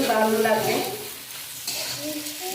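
Pasta tipped into a pan and stirred, with steady sizzling and scraping under a faint background of harmonic tones, loud at first then easing a little.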